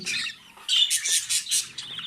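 A young grey budgerigar squawks in a string of harsh, raspy bursts, close and fairly loud, with short pauses between them.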